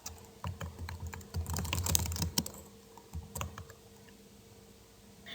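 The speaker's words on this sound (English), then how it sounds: "I would go over to the search box and type in affiliate marketing." Fingers tap rapidly on a computer keyboard, entering a search query in quick clustered keystrokes that thin out to scattered clicks, close and fairly quiet.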